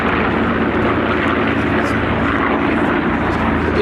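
WWII warbirds, a Mustang, a Corsair and a P-38, flying together at an airshow, a steady loud piston-propeller drone throughout with a commentator talking over it.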